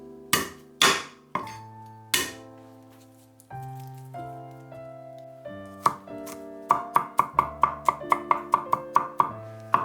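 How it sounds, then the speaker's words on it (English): Knife chopping garlic cloves on a board, close and clear: a few slower cuts, then a steady rapid run of crisp, evenly spaced chops. "Chop 3 garlic cloves."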